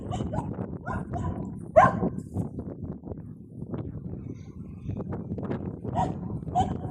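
A dog barks a few times at close range over a cluttered, rustling outdoor background with some muffled voices.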